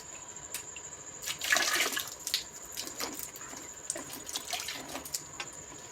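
Water from an air conditioner drain tube splashes and trickles in an uneven, faint flow with small bursts, heard close and alone.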